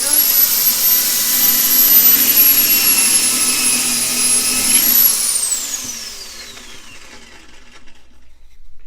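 A Kreg Foreman pocket hole machine drills a pocket hole in wood, its loud, high motor whine running steadily for about five seconds, then winding down into a fading spin.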